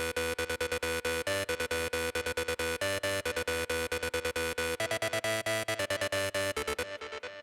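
Square-wave synth lead playing the simplified second-half melody of a dance track, programmed in FL Studio, with rapid repeated staccato notes over a steady beat and bass, loud and continuous before a brief fade near the end.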